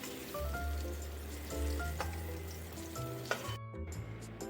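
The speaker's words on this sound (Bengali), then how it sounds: "কুমড়ো আর কাঁচা লঙ্কাগুলো একসাথে করে ভেজে নিই।" Pumpkin pieces and green chillies fry in hot oil for khichuri, a faint continuous sizzle with a few small knocks and steady tones in the background.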